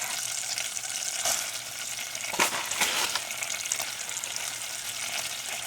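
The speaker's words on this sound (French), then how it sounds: "on met du beurre, on laisse fondre et on va rajouter de la farine" Flour is stirred into melted butter in a pan, giving a soft, continuous sizzle with a few scraping strokes of the spoon, fairly quiet and with no voices.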